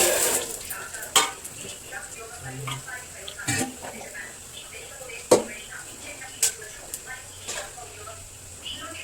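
Dried red chillies fry in hot oil in a pan over a high flame, giving a soft, crackly sizzle with sharp spattering pops and utensil clinks. Someone talks over it.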